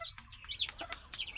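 A desi chicken clucks in a short run of quick, close but quiet calls against faint background noise.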